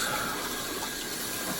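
Tap water runs steadily in a bathroom sink for a rinse after a wet shave, a constant broadband hiss and gush, fairly close and alone.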